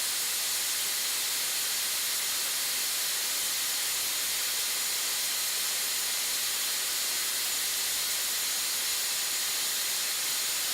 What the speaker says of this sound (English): The valve is now fully open and flowing at rated capacity.